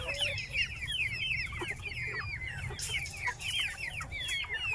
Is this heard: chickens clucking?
yes